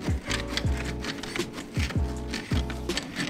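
Tightening bar of a smoke-stop curtain frame being turned by hand, a repeating series of low ratcheting thunks and scrapes, about six even turns in quick rhythm, close and clear with no talking.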